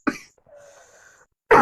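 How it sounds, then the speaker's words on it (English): A person gives a hollow, dry cough, then a short faint wheezy breath, then another cough cut off at the end. It is close, fairly quiet and heard alone. "Every time I cough, the cold is not there. It's like a hollow cough."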